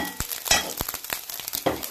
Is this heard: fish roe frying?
yes